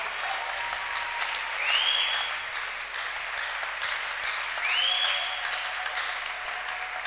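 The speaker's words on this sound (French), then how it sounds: "acclamez pour les mamans" A church audience applauds the mothers with sustained, dense clapping from many hands, loud and filling the room. It swells twice in waves, and faint voices and cheers mix in.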